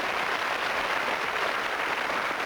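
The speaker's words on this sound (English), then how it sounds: "Round of applause, please" Studio audience applause at a TV game show, a steady dense wash of clapping throughout with no voices on top.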